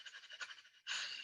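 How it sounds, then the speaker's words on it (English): Fire breath during a qigong session: quick, rhythmic nasal breathing pushed in and out through both nostrils, soft and close, ending in a louder, sustained rush of air. "So notice both nostrils pulling and pushing the breath in, out. Fire breath."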